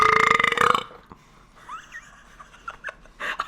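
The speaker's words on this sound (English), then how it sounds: "I've got a burp." A single loud, drawn-out burp from a person sampling fast food french fries, close to the mic, followed by quieter breathy sounds and a soft laugh.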